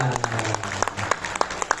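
A school farewell ceremony crowd claps in scattered, uneven bursts, with a speaker's amplified voice trailing off underneath at the start.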